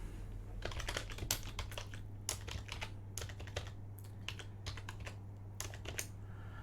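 A password goes in on a computer keyboard as quick, irregular keystrokes, near and clear over a steady low hum, with no talking.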